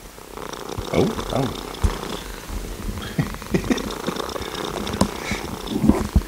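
Several cats lying on a lap purr close up, a steady low rumbling purr with small irregular bumps from movement, while a person speaks briefly now and then.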